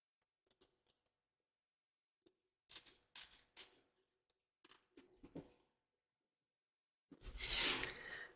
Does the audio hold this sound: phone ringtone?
no